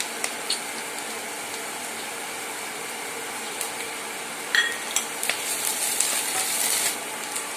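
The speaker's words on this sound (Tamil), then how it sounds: "இஞ்சி பூண்டு பச்சை வாசனை போற அளவுக்கு வணங்கிடுச்சுங்க" Ginger garlic paste sautés with golden onions for a drumstick fry, a soft continuous sizzle with scattered spatula clicks and scrapes that grow busier toward the end.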